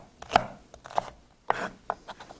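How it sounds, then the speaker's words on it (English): Knife chopping food on a board for a soup dinner, a handful of quick, uneven thuds spaced irregularly, close and clear with no talking. "just give it a quick chop"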